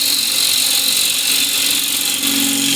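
A gouge cuts a hexagon wooden plate blank spinning on a lathe, a loud, steady whirring scrape that holds without pause throughout.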